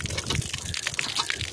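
Fresh drinking water pours and gushes steadily out in village fields, a continuous broadband rush with no voices over it.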